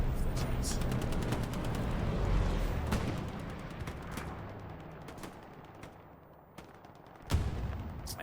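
A bombing run in a tank battle video game sets off dense, rapid volleys of explosions and gunfire that roll on continuously, thinning out and then ending in one last heavy blast.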